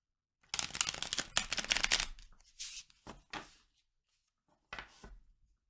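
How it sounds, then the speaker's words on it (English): Tarot cards get a quick hand shuffle, a close, crisp burst of riffling and rustling followed by a few shorter card flicks and taps amid silence. "Just give this a quick shuffle."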